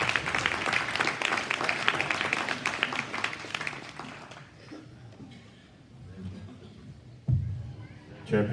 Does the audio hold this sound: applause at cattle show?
yes